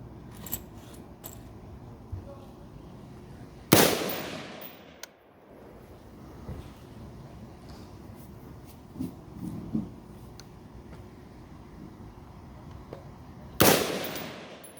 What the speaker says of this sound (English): Fire what you have in your firearms.